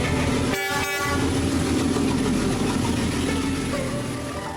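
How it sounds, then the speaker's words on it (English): A train rolls past close by through a Hanoi street without slowing, a loud rumbling roar with a short horn blast near the start and rhythmic wheel clatter continuing. "The train does not stop. It does not slow down."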